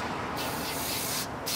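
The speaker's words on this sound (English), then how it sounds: "spray this stuff on there" Cleaner sprayed onto a battery during maintenance, heard as a steady close hiss that fills the clip and briefly swells near the start and the end.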